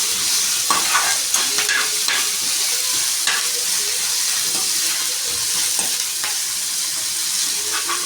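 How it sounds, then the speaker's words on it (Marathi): Ginger garlic paste frying with finely chopped curry leaves in hot oil, a steady loud hissing sizzle running throughout, dotted with small clicks and pops of stirring. "आता ही अद्रक लसूणची पेस्ट आणि हे ठेचा टाकतो मी. चांगला फ्राय करून घ्या."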